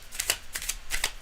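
A deck of tarot cards being shuffled by hand, giving three quick riffling bursts of crisp papery flutter at close range with no voices.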